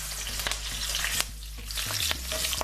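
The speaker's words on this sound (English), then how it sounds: "And they're nicely sizzling." Two or three bay leaves and spices sizzle and crackle steadily in hot oil for a chicken curry, a loud continuous frying hiss broken by a few sharp stirring knocks against the pan.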